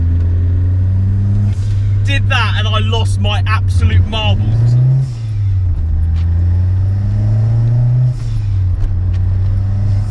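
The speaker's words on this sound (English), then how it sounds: "First time I'd ever heard a dump valve" Engine of a Renault 5 GT Turbo hot hatch with a dump valve, a steady droning note that rises and falls with the revs under someone talking throughout.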